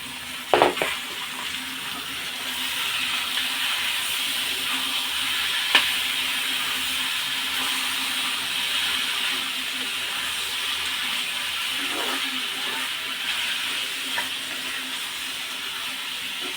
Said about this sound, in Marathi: त्यामध्येच आपण हा बारीक चिरलेला टोमॅटो टाकणार आहोत